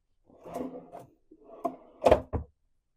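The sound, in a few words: drawer in cruise stateroom opened or closed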